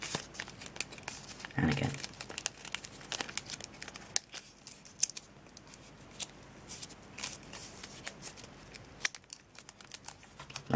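Sheets of origami paper for a macaw parrot are folded and creased, giving soft crinkling and rustling with a louder crumple near the start and scattered small rustles, under occasional quiet speech.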